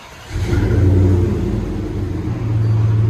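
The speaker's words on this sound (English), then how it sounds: "Dodge Dakota SLT V8." A Dodge Dakota SLT 4.7L V8 pickup with a straight pipe exhaust: a deep, loud engine rumble rises into a rev and holds, throaty low exhaust drone close by.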